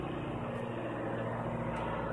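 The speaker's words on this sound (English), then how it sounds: "Airplane flying over." A propeller airplane flies overhead, a steady distant drone with low engine hum that holds throughout.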